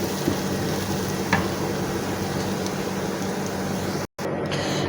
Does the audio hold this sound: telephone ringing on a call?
no